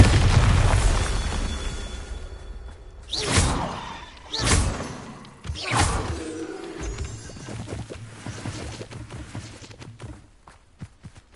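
Bombarda blasting spell explosions in the Hogwarts Legacy video game, three loud booming bursts spaced a second or two apart, each fading into a rumbling crumble, with no talking.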